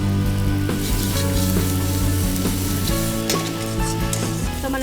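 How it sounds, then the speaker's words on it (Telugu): Ginger garlic paste fries in hot oil: a loud, close, dense sizzle with spatula stirring over a steady background hum and no speech. "ఓకే, జింజర్ గార్లిక్ పేస్ట్ వేసుకుందాం."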